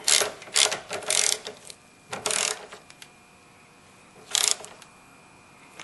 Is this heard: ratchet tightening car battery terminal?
yes